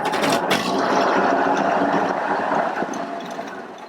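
A straight-six car engine idles steadily nearby, a smooth, even hum with a faint mechanical ticking running through it.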